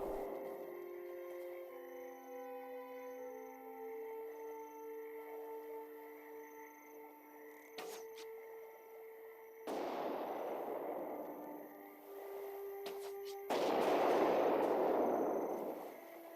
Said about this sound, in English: fires a bomb at target area that detonates on impact, creating an explosion that deals damage and inflicts bleed on enemies nearby